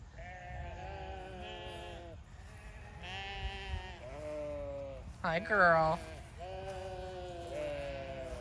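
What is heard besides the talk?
sheep bleating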